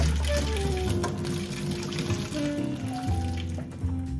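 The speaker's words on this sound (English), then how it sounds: "I'm going to rinse the pasta in cold water so it cools down quickly." Cold running water rinses cooked pasta for a healthy meal-prep lunch, a steady splashing flow that continues throughout and sits under a tonal musical background.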